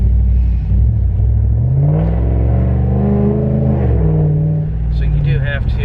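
A Hemi 5.7L car with an automatic transmission revs hard, its loud exhaust swelling into a deep rising roar that holds steady and then eases off, close by and continuous.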